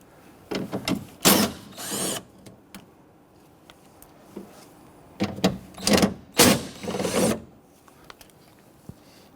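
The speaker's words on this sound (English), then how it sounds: "remove the three nuts securing the motor" Several bursts of a power tool or ratchet driver removing the three nuts on a rear window regulator motor of a 1992-1996 Toyota Camry, loud and close, coming in two clusters with pauses between.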